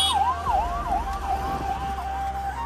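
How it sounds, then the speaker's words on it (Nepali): An ambulance siren wails in a repeating rising-and-falling pattern as it approaches across the bridge linking Baglung and Beni, steady and fairly close over low traffic rumble. "एम्बुलेन्स ट्रिपी पारेर आइरहेको छ"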